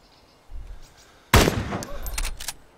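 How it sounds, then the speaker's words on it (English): Gunfire aimed at the player in a first-person shooter video game: a faint shot first, then a loud, close burst of rapid cracking shots with several more sharp reports following. "I'm getting very shot at"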